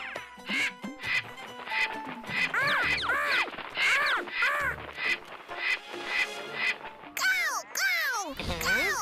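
A cartoon character's voice imitates a crow, giving a run of loud, nasal, repeated caws in an irregular rhythm, with light music and jingling behind.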